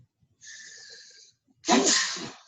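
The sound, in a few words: sneeze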